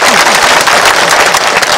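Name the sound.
audience applause at a political speech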